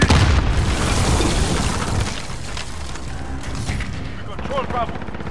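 Grenade explosion in Call of Duty: Modern Warfare, a loud boom at the start that decays into rumbling battle noise and scattered gunfire, with in-game voices calling out over the action.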